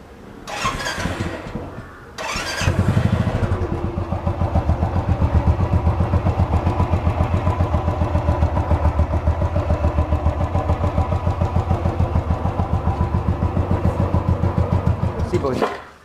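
A Royal Enfield Bullet motorcycle engine starts after a couple of sputters and then idles with a steady, loud, evenly pulsing thump that carries a tappet clatter, heard close up and continuing to the end.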